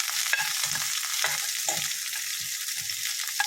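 Curry leaves, urad dal and onion fry in a pan for a Kerala ten-leaf thoran, giving a steady close sizzle broken by scraping stirs of a spoon.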